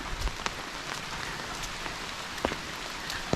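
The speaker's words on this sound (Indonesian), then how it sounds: "Ditambah lagi nih hujan, gerimis hujan, bukan gerimis ya." Rain falls on a quiet Sundanese countryside cemetery, a soft, constant patter with a few sharper drips landing now and then, faint and with no speech.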